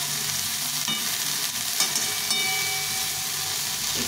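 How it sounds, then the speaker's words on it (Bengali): Okra and onion frying in a pan while being stirred: a steady close sizzle with occasional scraping of the spatula against the pan, no voices. "এটাকে ভালো করে একটু ভেজে নিতে হবে অনেকক্ষণ ধরে নেড়ে নেড়ে ভেজে নিতে হবে।"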